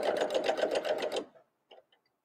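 A sewing machine stitches mittens in a fast, rhythmic whir lasting just over a second before stopping, followed by a couple of faint clicks.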